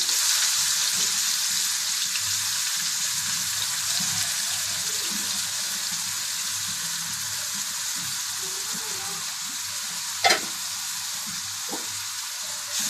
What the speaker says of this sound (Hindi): अब हम इसमें प्याज डालते हैं।